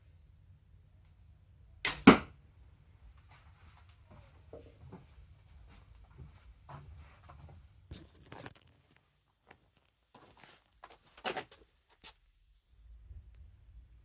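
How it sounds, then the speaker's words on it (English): Arrows loosed from a handmade yew bow give a few sharp thwacks and whooshes, with a loud one early and fainter ones later, among quiet outdoor rustling and no talking. "Look at that straight arrow flight."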